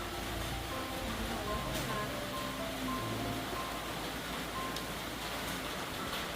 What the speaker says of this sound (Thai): นเน่านะฝนตกขนาดเนี้ย